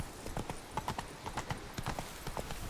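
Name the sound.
horse galloping over rocks in The Witcher 3 video game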